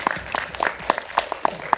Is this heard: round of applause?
yes